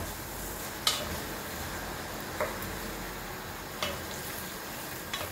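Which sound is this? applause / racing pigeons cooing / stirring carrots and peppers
stirring carrots and peppers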